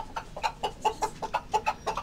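A rooster clucks in a quick, regular run of about a dozen short, close, nasal notes with no talking.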